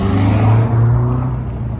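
A Honda Civic engine holds a loud, steady high-rev drone right at redline, close up and continuous with no talk.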